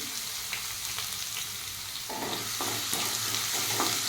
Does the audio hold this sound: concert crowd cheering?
no